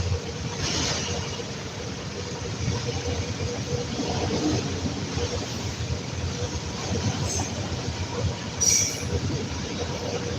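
A train rolls past close by for the whole stretch, a steady loud rumble of wheels and cars with brief squeals of wheels on rail, and no talking.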